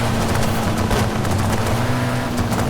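A Mitsubishi Eclipse GSX race car in Forza Horizon 5 holds a loud, steady engine drone with a constant low hum and dense broadband roar, sounding close and sustained throughout without talk.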